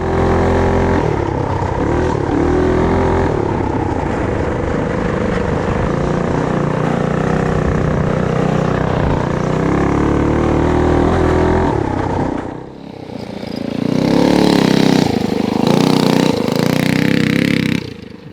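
Coleman mini bike fitted with a Tillotson 212 engine, riding with a loud, steady small-engine drone that holds for about twelve seconds, dips briefly, then revs up again strongly.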